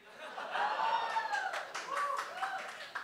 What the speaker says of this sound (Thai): มีเสียงปรบมือถึงจะกระหล่อมกระแหลม